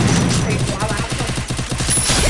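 Rapid gunfire bursts in the video game Free Fire, dense repeated shots rattling through the whole moment with a player's voice mixed faintly in.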